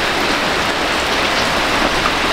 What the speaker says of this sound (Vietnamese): Mưa to chứ.